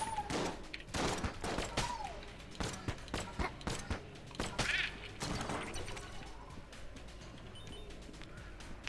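Gunfire from a weapon in The Gungeon video game, a rapid run of sharp shots and impacts crowding the first half, then thinning into sparser game effects and a low hum.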